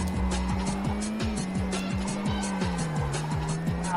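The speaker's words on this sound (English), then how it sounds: "Oh, okay, amazing drift this time." A car in the Super Drift 3D video game drifts under a steady engine drone, with tire squeals repeating in quick rhythmic bursts, loud and close, with no talking.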